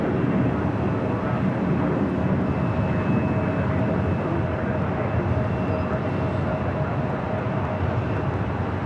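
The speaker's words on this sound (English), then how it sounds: "the 777-300ER continuing to taxi down to 25 right on the south side" A Boeing 777-300ER taxiing toward runway 25 right at LAX gives off a loud, unbroken engine roar and rumble that holds at a steady level throughout.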